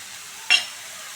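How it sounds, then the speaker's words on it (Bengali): Chopped tomato dropped into a hot frying pan while cooking cabbage with hilsa fish head, a single short hissing sizzle burst that quickly fades into quiet background. "এবার কেটে রাখা টমেটোটা দিয়ে দেব"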